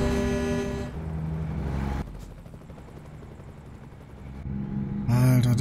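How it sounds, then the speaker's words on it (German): A helicopter flies in the video game American Truck Simulator, its droning rotor and engine blending with the steady rumble of a heavy truck hauling a 43-tonne milling machine, louder at the start and again at the end. "deswegen der Heli"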